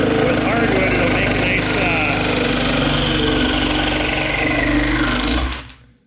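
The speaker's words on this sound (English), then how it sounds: "I'm using a steel blade on there because with" A saw fitted with a steel blade cutting through hardwood at a logging site, a steady loud buzzing motor drone that runs for about five seconds and then winds down and stops.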